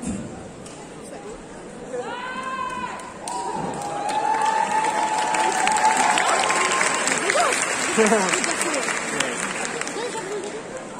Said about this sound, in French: On applaudit bien fort encore une fois